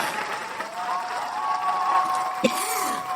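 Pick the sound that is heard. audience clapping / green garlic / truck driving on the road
audience clapping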